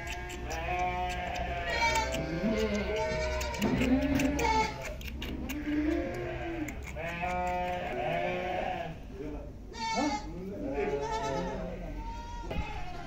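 Lambs on a sheep and goat farm bleat repeatedly in high, wavering cries. The calls overlap and come close by in a busy run of bleats.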